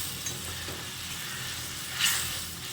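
Egg curry (dimer kosha) being stirred in a pan just after a small cup of water goes in, a steady soft sizzle with faint scraping and a brief louder hiss near the end, no talking.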